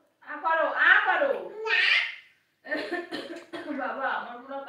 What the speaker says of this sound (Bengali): আমার পুরো কাশি হচ্ছে